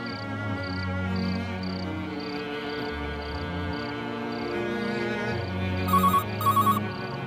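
A phone rings twice in short bursts near the end, over a steady background of music and insect-like chirping.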